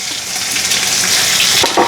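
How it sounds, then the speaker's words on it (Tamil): Onions sautéing in a pan for mutton biryani, a loud, steady oily sizzle with occasional stirring scrapes, close up and alone. "நல்லா வதங்கி வந்து வரணும் வெங்காயம்."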